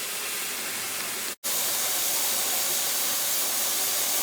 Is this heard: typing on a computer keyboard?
no